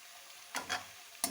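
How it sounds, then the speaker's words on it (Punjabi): Spiced, coarsely ground masala potatoes with chopped coriander tossed in a pan: two or three brief scraping stirs with a faint sizzle over a quiet background, close by. "ਮਿਕਸ ਕਰ ਲਾਂਗੇ ਹੁਣ ਆਲੂਆਂ ਨੂੰ"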